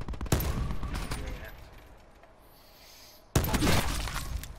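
A gunshot headshot in Call of Duty Blackout: a sharp burst of gunfire, then a quieter lull with faint background sound, then another loud, crackling burst of shots near the end.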